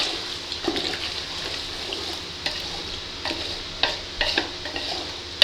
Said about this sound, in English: Now I'm going to add curd.